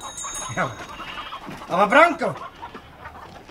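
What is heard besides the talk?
chickens clucking in a radio play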